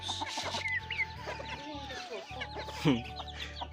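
Desi chickens raised at home cluck close by in a busy, overlapping chorus, with a few sharper squawks and some faint talk in the background.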